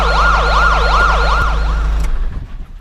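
An ambulance siren from a 1969 Burmese film wails loud and close in a steady rising-and-falling sweep over a low engine rumble, then cuts off abruptly near the end.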